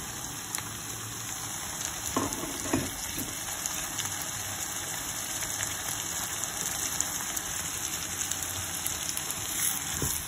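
Tomatoes and chilies fry in a pan with a steady, hissing sizzle that continues evenly throughout, with occasional faint pops and no speech.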